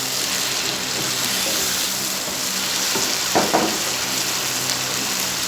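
Chicken angara fries loudly in a pan with a steady, dense sizzle while ground masala is stirred in, and a few soft scrapes poke through the hiss. Close, with no talking.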